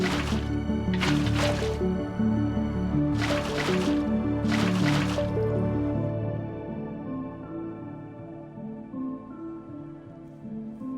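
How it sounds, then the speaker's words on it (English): Water placed in Minecraft gives a short series of liquid splashes and drips, followed by steady gurgling and flowing that slowly fades, with no talking. "I might go ahead and just put the water down"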